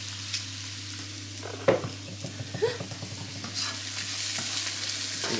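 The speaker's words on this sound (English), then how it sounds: "Give it a stir." A vegetable curry with softened onions, garlic and chilli is stirred in a pan, a soft continuous sizzle and frying hiss broken by scraping and knocks of the spoon against the pan.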